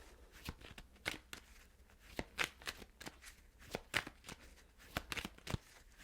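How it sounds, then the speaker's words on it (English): A deck of tarot cards is shuffled in quiet, close, irregular bursts of riffling and slapping card noise, with soft pauses between the sharper snaps. "Let's shuffle the cards."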